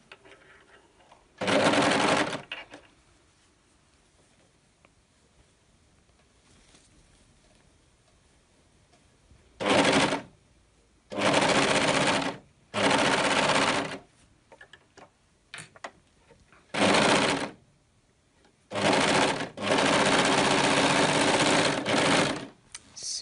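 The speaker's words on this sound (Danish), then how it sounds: "Så fik vi syet et ærme på" A sewing machine stitches a sleeve onto a dress in several bursts of rapid, even mechanical whirring, close by, separated by quiet pauses as the fabric is repositioned.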